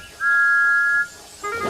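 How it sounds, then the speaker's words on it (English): Thomas the Tank Engine's train whistle gives one clean, steady toot lasting under a second, followed by a brief softer sound. "The two were interrupted by the whistle of Thomas the tank engine"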